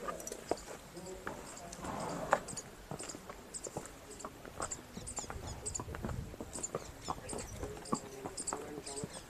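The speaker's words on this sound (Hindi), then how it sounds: "आइए चलते हैं और देखते हैं कि घोड़े की चाल कैसे परखी जाती है।" Horse hooves clip-clopping on the ground as the horse is walked for a farrier's gait check, a steady series of moderate steps with people talking over them.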